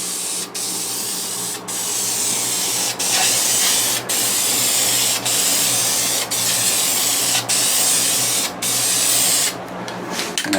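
An aerosol spray can hisses in long continuous bursts with brief pauses between passes as a final heavier coat goes onto a Mercedes-Benz W126 S-Class wheel, close and loud, no voices.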